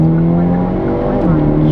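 Modified Hyundai Elantra N accelerating hard, the engine droning loud and close with a steady low pitch that dips briefly before pulling again.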